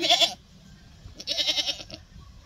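A baby goat gives two short, close, wavering bleats separated by a brief pause, with quiet handling noise underneath.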